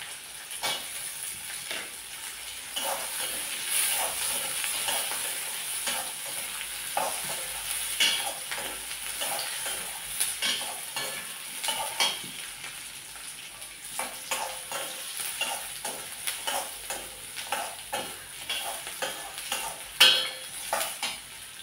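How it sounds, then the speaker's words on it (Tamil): Garlic and tamarind fry in a pan for a spicy chutney, a continuous close sizzle broken by frequent scraping and clinking strokes of a spoon stirring against the metal. "இனி இந்த பூண்டையும் புளியையும் போட்டுருங்க."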